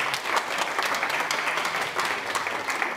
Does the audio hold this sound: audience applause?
yes